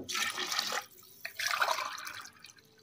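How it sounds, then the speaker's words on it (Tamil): Glasses of water poured onto rice for chicken biryani, heard as two separate splashing pours with a short pause between them, moderately quiet and close. "10 கிளாஸ் தண்ணி ஊற்றணும்"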